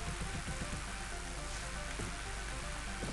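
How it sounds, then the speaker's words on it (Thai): Wind-driven rain patters steadily on a surface outdoors, a continuous close hiss with scattered drips and no talk. "กูเริ่มเย็นขาแล้วลมพัดฝนมา"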